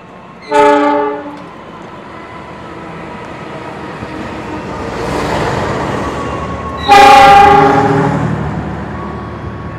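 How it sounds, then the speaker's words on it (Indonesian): The Ranggajati train bound for Cirebon arrives at track 2 of a station, sounding two loud, close horn blasts separated by several seconds of rumbling rolling-stock noise. "Ranggajati tujuan Cirebon masuk jalur 2"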